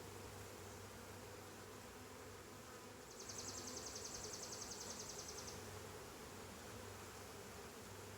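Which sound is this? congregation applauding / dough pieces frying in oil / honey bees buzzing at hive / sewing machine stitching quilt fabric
honey bees buzzing at hive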